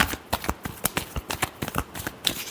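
Tarot cards shuffled by hand in quick, rapid riffling bursts, a close dense flutter of a dozen or so snaps with no talking.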